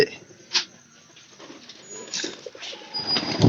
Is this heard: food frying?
no